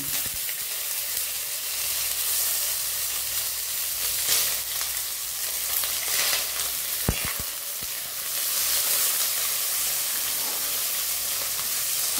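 Onion and green chilli sizzle and crackle steadily in hot oil, with occasional stirring scrapes in the pan, close and continuous throughout.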